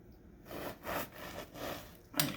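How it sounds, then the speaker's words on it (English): A knife saws through a loaf of bread to cut inch-thick slices for French toast, giving a few rhythmic back-and-forth rasping strokes, close and moderately loud, without talk. "we go through here and cut out these slices that are about 1 inch apart."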